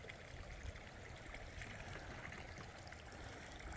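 Water runs steadily down a seasonal runoff stream channelled for flood irrigation in Clover Valley fields, held by a tarp and rocks; a continuous, close, even rushing trickle with no voices.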